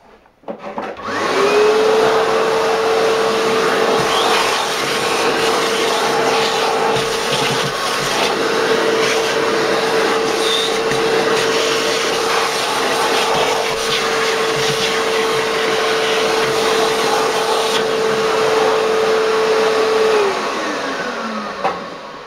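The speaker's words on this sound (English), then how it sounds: "So let me clean the chips with the vacuum." Shop vacuum cleaner sucking up metal drilling chips after tapping a side wall, a loud steady whine that starts abruptly, holds for about twenty seconds with scraping rattles of debris, then winds down.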